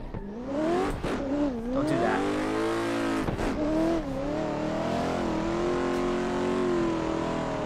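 Toyota Supra drift car on a track, its engine revving hard with rising and falling pitch sweeps, brief gaps between pulls, then a sustained high-rpm drone, loud and close.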